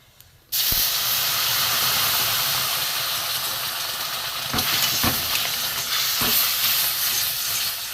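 Water poured into a hot pan of roasting semolina bursts into a loud, steady hiss that starts abruptly and sizzles on for several seconds, with a few faint clinks and no talk.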